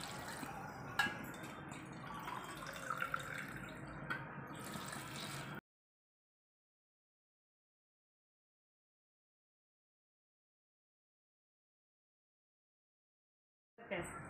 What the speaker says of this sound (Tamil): இப்போ தண்ணி அதே சுண்டால் ஒரு 6 சுண்டு தண்ணி ஊற்றிக்குவோம்